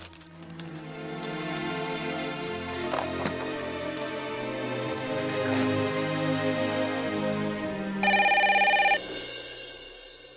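Telephone ringing in an Indian Hindi television drama scene, a steady electronic ring tone repeating over background music and then briefly louder near the end, with no talk.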